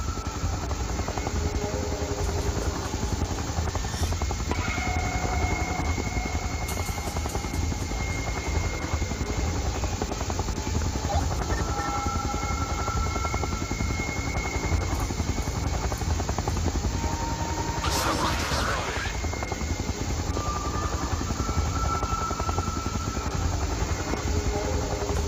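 Helicopters flying, a steady loud rotor drone filling the scene throughout, with a brief sharp burst of noise partway through.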